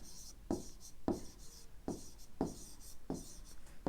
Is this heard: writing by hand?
yes